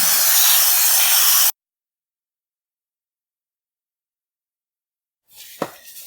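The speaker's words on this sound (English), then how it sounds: "Okay, spray the sprocket in the chain." A loud, close aerosol spray of chain lube onto a Kawasaki Vulcan S motorcycle chain and sprocket hisses steadily for about a second and a half, then silence, followed by faint handling noise and a sharp knock.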